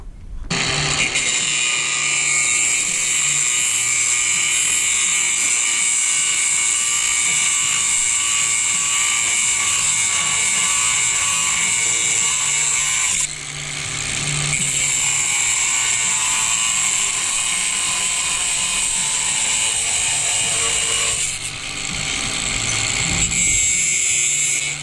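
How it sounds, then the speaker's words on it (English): Power tools bolt a beam together on a bricklaying job, giving a sustained, high-pitched mechanical whine that runs for long stretches and briefly cuts out twice before starting again. "now we're making the beam, bolting it together"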